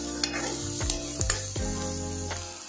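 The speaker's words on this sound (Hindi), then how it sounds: "अब इसमें ऐड कर देंगे हम प्याज। दोस्तों प्याज को हम 2 से 3 मिनट चला लेंगे मीडियम फ्लेम में।" Onions fry over a medium flame for a hill-style chole, with a continuous sizzle broken by several sharp metal spoon scrapes and knocks against the pan at uneven intervals, close and without speech.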